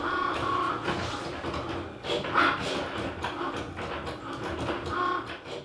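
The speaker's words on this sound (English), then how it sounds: "click the flashing Cricut button to cut" Cricut cutting machine cutting vinyl for a Halloween pumpkin decoration, a soft mechanical whirring and shuffling with faint clicks, moderately quiet and continuous.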